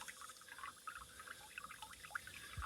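Water drizzling from a leaking fill valve fitting on an evaporative cooler, a faint, steady trickle with scattered light drips and splashes.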